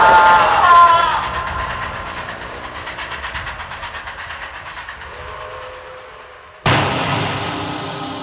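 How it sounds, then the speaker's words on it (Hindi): A cartoon train approaches on a railway track, a rhythmic rumbling clatter of wheels that builds and then surges louder near the end, with a high whistle-like tone at the start. "अरे पटरी से हट जाइए, ट्रेन आ रही है।"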